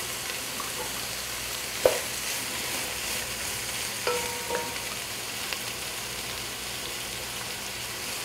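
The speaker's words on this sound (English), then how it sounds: "you need the oil to fry the onion" Onions fry in oil for an Indian-style chicken biryani, a steady close sizzle with a few sharp clicks from stirring and no voices.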